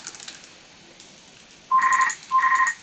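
A telephone rings indoors, two short electronic double-trill bursts near the end after a quiet stretch, clear and fairly loud.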